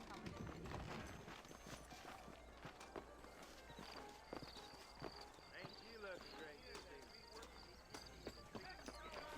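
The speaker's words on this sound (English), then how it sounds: "I got the horses saddled up and ready out front" Horse hooves clip-clop in a steady walking rhythm in the Red Dead Redemption video game on Xbox One, faint and continuous beneath in-game character dialogue.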